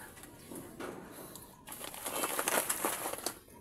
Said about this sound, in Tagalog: Ito natin mga kalapatids.